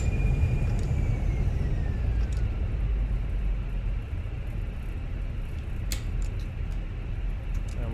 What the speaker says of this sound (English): I just stepped on the brakes.